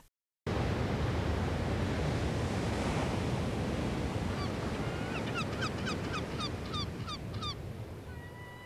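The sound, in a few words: loud sea waves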